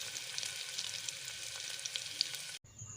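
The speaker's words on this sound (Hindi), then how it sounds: "तो अभी प्याज मसाला मला तो भूंज लेबो।" Onions and masala frying in a pan, a close, dense hissing sizzle with small crackles and stirring, cutting off abruptly near the end to a quieter background.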